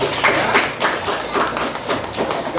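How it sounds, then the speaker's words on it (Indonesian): A classroom group of university teacher-training students claps for the first presenting group, a short burst of several hands clapping in uneven rhythm, close and moderately loud, with no voices. "Tepuk tangan buat kelompok 1 ya."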